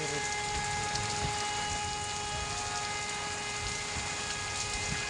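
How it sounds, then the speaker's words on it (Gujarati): Rain falls steadily in an even, unbroken hiss of drops on surfaces, with a faint tonal hum running underneath throughout. "જોઈ લો પાણી, વરસાદ ચાલુ છે"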